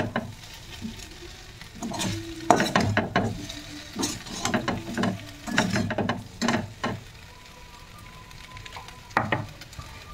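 Whole-wheat pasta mixed with pizza seasoning in a pan gives clusters of rattling spatula scrapes and clacks over a soft sizzle, coming in bursts with short pauses, near and fairly loud, no speech.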